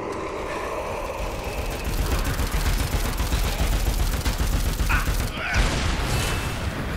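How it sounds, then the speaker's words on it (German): Dense, continuous rumbling blasts and crackling bursts of explosions in Dead Rising 4 fill the scene, with a sharper boom near the end, chaotic and close by. "Hinter mir explodiert halt alles"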